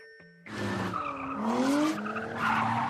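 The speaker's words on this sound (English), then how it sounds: "rear-wheel drive and 280 brake is plenty for a bit of drifting" Nissan 350Z Roadster, rear-wheel drive, drifting at Santapod Raceway in Northampton, with loud wavering tire squeal and engine roar rising after a brief quiet start, close and sustained.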